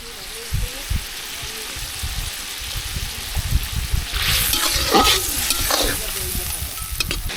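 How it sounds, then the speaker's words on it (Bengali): Tangra fish curry with added water bubbling and sizzling in a pan, soft stirring scrapes and a louder burst of frying hiss partway through, with a voice speaking at times. "মাছগুলো দিয়ে দেবো এবার জলটা দিয়ে দিলাম।"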